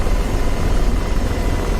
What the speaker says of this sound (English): Now this helicopter is definitely more of a challenge to fly than, let's say, like the Blackhawk